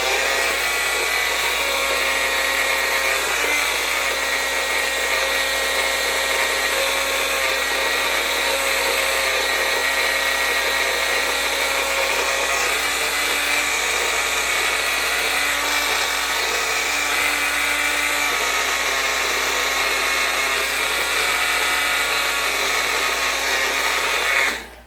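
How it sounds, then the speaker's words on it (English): An electric grinder blitzes dried rosemary into a fine spice, giving a loud, steady, high-pitched whirring drone that runs unbroken for the whole stretch with no voices. "I'm gonna give it a little bit more grinding, because I don't like it too coarse"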